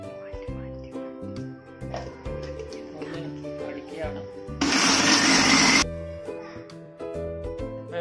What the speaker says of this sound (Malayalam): സാധനങ്ങളെല്ലാം നമ്മൾ മിക്സിയിലിട്ട് അടിച്ച് ജ്യൂസ് രൂപത്തിലാക്കാൻ പോവുകയാണ്.